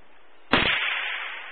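A single sharp gunshot from a gun fired by Denise outdoors in snow, with a loud crack and a long echoing tail that fades slowly afterward.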